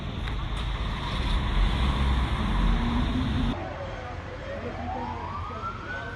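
Fire engine siren responding to a burning chicken slaughterhouse in Bolu, Turkey: a loud steady wail under heavy engine and traffic noise cuts out, then a fainter rising siren tone sweeps up in the distance.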